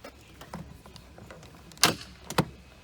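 Door lock on a Mercedes G Wagon W463 engaging: two sharp mechanical clunks about half a second apart, close and fairly loud over a quiet background.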